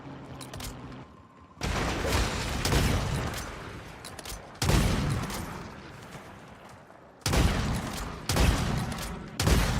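Gunfire in a video game comes in three long, dense bursts of rapid shots, loud and close, with short gaps between them and no talking.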